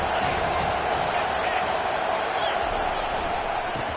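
A football stadium crowd roars steadily behind the defense on a third down in a Penn State versus Texas A&M game, a dense, continuous wall of cheering that stays loud throughout.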